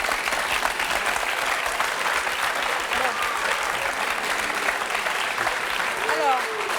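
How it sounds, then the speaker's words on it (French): A studio audience at a French television show applauds loudly for a guest, a sustained dense clapping from many hands with faint voices mixed in. "On peut l'applaudir très fort."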